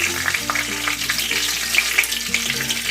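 A halved bay leaf dropped into hot oil sizzles and spits steadily, a continuous close frying crackle with faint stirring, no talk.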